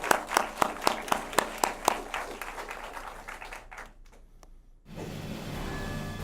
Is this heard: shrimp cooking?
no